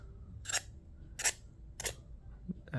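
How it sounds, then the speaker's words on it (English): A razor blade trims excess double-sided adhesive along the edges of an iPhone 14 Pro back glass in three short, crisp scraping strokes, close and isolated, followed by a faint tap. "Take a razor blade, just run it down the edges"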